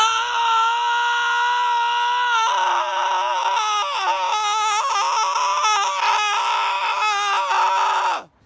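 A sustained, loud shouted scream in the style of Kurt Cobain, raw and strained with shifting pitch, held for about eight seconds before cutting off abruptly.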